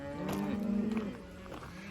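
Cattle moo during a drive of 125 cow/calf pairs after heavy rain: one low drawn-out moo up close, with fainter lowing from the herd around it.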